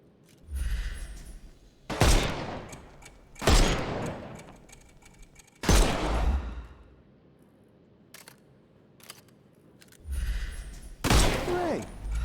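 Gunfire in a Sherlock Holmes video game: a few loud, separate blasts, each a sharp burst with a decaying tail, spaced a second or two apart, with quieter game noise in the gaps.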